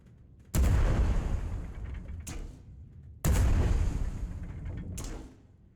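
Gunfire in Worlds Adrift, two loud sharp blasts each followed by a long rumbling decay and a smaller mechanical clack, spaced a few seconds apart, with no voices.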